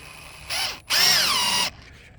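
A cordless drill driving a screw into a stainless steel cable railing fitting, two whining bursts with the motor pitch rising then sagging under load, the second longer, up close with no talk.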